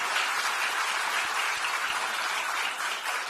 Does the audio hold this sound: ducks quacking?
no